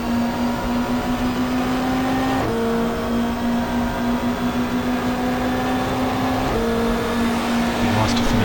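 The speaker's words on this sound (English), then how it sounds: "Revving the guts out of this car." A touring car engine in the GTR2 racing game, 1995 Australian Super Touring Championship at Symmons Plains, holds a loud, steady high-revving drone, with two brief gear-shift dips in pitch before climbing back, continuous throughout.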